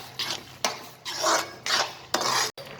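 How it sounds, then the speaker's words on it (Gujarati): Carrot halwa being stirred in a pan, five or six distinct scraping, rasping strokes of a spoon against the metal, evenly spaced and close, with no voices. "હવે આપણે આને પહેલાં હલાવી લઈએ।"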